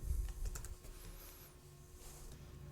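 A few quick, soft keystrokes tap on a computer keyboard, a short burst near the start and then fading into quiet room noise, with no talk.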